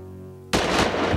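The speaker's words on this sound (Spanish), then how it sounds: "Cárdenas le puso su revólver a un lado del cuello y lo mató de un balazo." A single revolver shot bursts out loud and sharp after a short quiet moment, followed by a brief rumbling decay.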